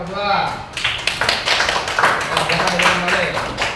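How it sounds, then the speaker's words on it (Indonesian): A classroom group claps in scattered, uneven bursts after a voice speaks at the start, the claps fairly close and mixed with some talking. "Boleh tepuk tangan pemerintah nomor 2."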